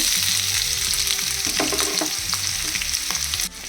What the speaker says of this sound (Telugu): ఆనియన్స్ వేసుకుని ఫ్రై చేసేసుకుందాము